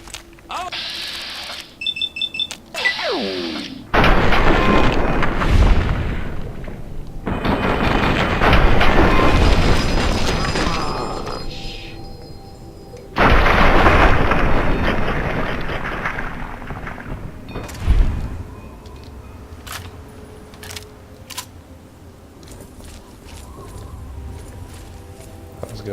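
Gunfire and booming blasts from the video game Fallout 3, loud bursts running for several seconds at a time between quieter gaps, with brief sharp shots and a voice talking over parts of it.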